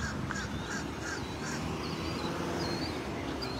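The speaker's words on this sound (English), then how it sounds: "Little blackbirds in the background." Birds call repeatedly over steady low background noise on a dry Southwest Florida morning at a beach near a pier, short harsh caws and chirps recurring every half second or so, moderately near.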